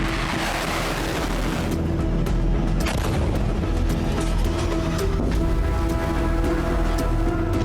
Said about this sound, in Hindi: मिडिल ईस्ट में मिसाइल गरज रही हैं।